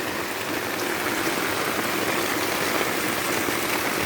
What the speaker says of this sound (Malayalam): മഴ ഇങ്ങനെ കാണുമ്പോൾ തന്നെ ഒരു സന്തോഷം